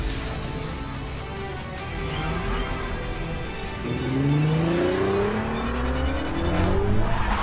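A McLaren car in a mobile battle game revs loudly with engine and rolling tire roar, pitch sweeping upward as it accelerates, with brief squeals and a steady, close presence throughout.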